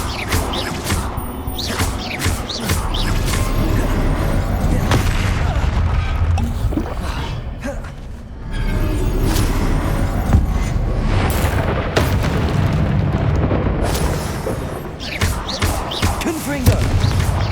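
Repeated Confringo blasting-spell explosions in the video game Hogwarts Legacy, loud booms and crashing impacts with whooshes, dense and continuous over a heavy low rumble, with one brief dip midway.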